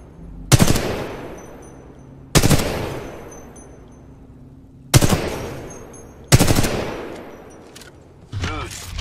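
Weapon fire at a firing range in Titanfall 2, with four loud close bursts of automatic fire in separate volleys, each ringing out into a decaying echo, then a fifth quieter burst at the end.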